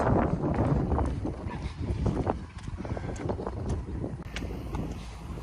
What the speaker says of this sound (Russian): Блин, такой прекрасный ветер дует.